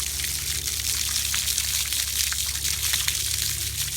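Water gushes steadily from a hose while a horse is being washed, a continuous close splashing and trickling wash with no talk.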